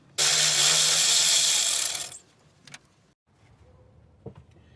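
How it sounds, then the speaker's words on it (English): A power tool spins out a 7mm bolt from the ignition coil box on a Ford Econoline van's 5.4L V8, one loud close whir lasting about two seconds, then small clicks and taps. "I'm gonna be taking the 7mm bolt here from the ignition coil box."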